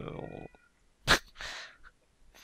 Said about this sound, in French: les gens ils vont croire que je maltraite mon chat pour qu'il hurle à la mort comme ça